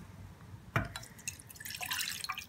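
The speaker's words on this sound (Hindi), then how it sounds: "तो ये मैंने पानी लिया है, इसे हम डालेंगे एक बाउल में" A little over half a cup of water is tipped into a bowl for a homemade skin serum, starting with one sharp splash and followed by a soft trickle and scattered drips, quiet and close.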